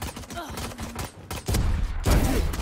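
Video game gunfire comes as a rapid series of sharp, close shots, with heavier bursts in the second half and brief pauses between volleys.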